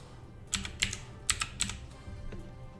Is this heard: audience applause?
no